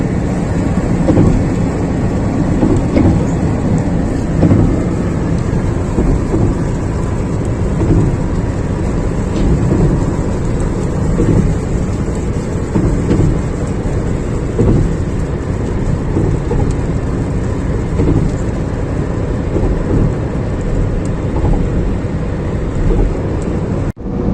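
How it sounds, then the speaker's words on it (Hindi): Heavy, steady rain roars continuously for the whole stretch, loud and dense, with low rumbling underneath like thunder or traffic, on the M2 motorway in Pakistan. "और बारिश भी शुरू हो गई है।"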